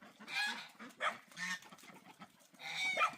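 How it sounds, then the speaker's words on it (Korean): Chickens clucking and squawking in a few loud bursts at close range as they are herded home, with brief pauses between calls. "저기 닭들."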